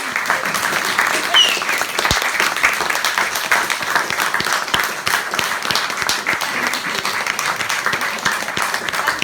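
Steady audience applause fills a small cinema venue after an actress's Q&A, continuous dense clapping at close range with no pauses.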